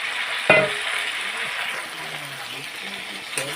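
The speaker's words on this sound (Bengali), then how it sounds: "এখন আমি সব কপিগুলো দিয়ে কষিয়ে জল দিয়ে দেবো" Cauliflower sautés in oil in a pan for a potato-cauliflower curry, giving a steady close sizzle, opened by a sharp clank of a utensil, with occasional stirring scrapes and a faint voice murmuring in the background.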